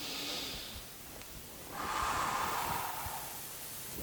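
Slow, deep breathing during a guided breathing exercise: a soft inhale followed by a longer, louder airy exhale, close and unaccompanied by talk.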